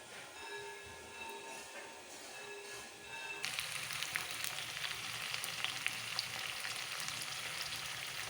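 Potatoes deep-frying in a pan of hot oil, a steady dense sizzle that jumps sharply louder partway through as the potatoes go in, then keeps crackling evenly up close with no talking.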